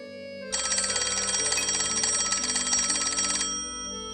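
A telephone bell rings loudly and steadily for about three seconds in a domestic drama scene, a continuous electronic trill standing alone over quiet room tone before fading out.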